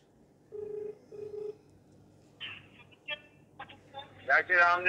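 A phone call is placed and rings twice with two short, even tones, followed by a voice talking.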